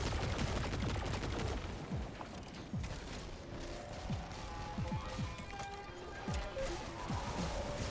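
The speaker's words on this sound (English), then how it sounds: "That shot makes me think of a linear fusion rifle when it does that." Dense video-game weapon fire in Destiny 2 resembling a linear fusion rifle, with sharp mechanical cracks and rattling shots repeating over a steady, loud bed of battle noise.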